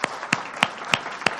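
A few evenly spaced hand claps ring out from a conference breakout session audience, five sharp, steady beats in a row with nothing filling the gaps between them.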